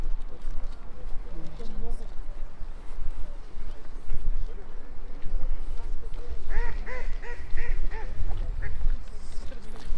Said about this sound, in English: You can hear some ducks in the distance